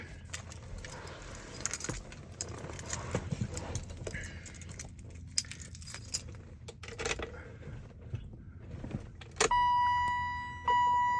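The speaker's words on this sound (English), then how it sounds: "now we're gonna turn the key on and we're gonna see what happens" The ignition key of a BMW E30 with an M20 six-cylinder engine is turned, with keys jangling and rattling close by, then a steady electrical tone and chime sound as power comes on near the end, with no talk.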